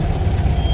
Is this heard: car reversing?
yes